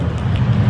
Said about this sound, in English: It's raining everywhere.